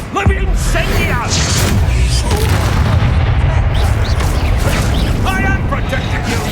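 A loud, booming fire-spell blast from a video game, a sustained rumbling roar with crackling bursts that fills the whole stretch, while a voice talks over it.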